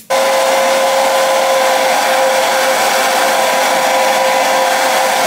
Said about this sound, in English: I'm gonna blow dry it to make sure the lace tint is not transferring on my skin or anything.